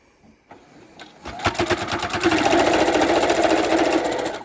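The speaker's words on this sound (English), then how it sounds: "I'm going to sew along here" A sewing machine stitches along the fabric edge just inside the presser foot of a DIY bowl cozy, starting with a few slow clicks and then settling into a fast, steady mechanical whirr close by.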